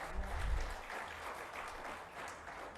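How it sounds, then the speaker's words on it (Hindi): An audience at an event honoring industrialists in Agra applauds. The clapping is faint and distant, a soft, even wash of sound with no voices over it. "जोरदार तालियां हो जाएं।"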